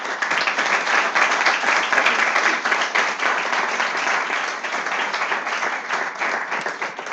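Sustained audience applause for two invited speakers at a talk held at a think-tank venue, steady and dense throughout with no break, many hands clapping together.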